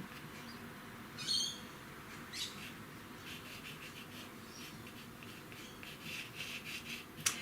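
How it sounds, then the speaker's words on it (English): Small birds chirp sporadically among dense trees and foliage, brief faint calls scattered over a steady outdoor hiss, with a slightly louder burst near the start and a few sharp chirps toward the end. "there's quite a lot of trees and there's a lot of foliage, and this is what attracts the birds"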